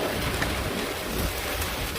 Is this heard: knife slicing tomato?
no